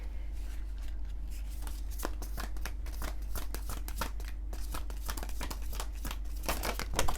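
A large Salvador Dali tarot deck being shuffled by hand, giving a steady run of close, crisp card riffles and slaps that carry on without pause for several seconds.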